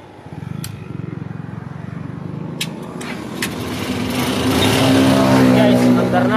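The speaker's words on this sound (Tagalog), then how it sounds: "Ngayon, bubuhayin natin si makina" A Honda TMX125 motorcycle engine starts up and settles into a steady running note that grows louder and fuller over the last seconds, heard up close with no talking.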